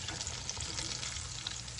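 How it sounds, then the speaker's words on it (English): Mustard-coated chicken pieces dredged in cornmeal sizzle in a pan of hot oil, a dense continuous crackle and hiss with small pops, close and steady without any voices. "Mustard, southern fried, chicken with cornmeal."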